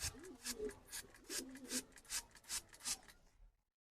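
A pair of pigeons being bathed with water in hot weather gives rhythmic splashing, rustling bursts about every half second for three seconds, with soft low coos underneath, close by, ending in silence.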